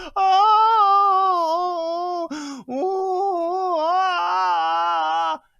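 A 14-year-old girl's long, loud, high-pitched wail of crying after being shot in a shootout with sheriff's deputies, sustained and quavering, broken by a sharp gasp before resuming.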